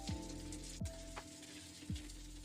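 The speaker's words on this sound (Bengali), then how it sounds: "ওই তেলে এবার আলুগুলো সব দিয়ে দেব।" Potatoes frying in hot oil for an aloo kumro dish, a steady close sizzle with a few soft clicks and stirring knocks over about two and a half seconds, no voices.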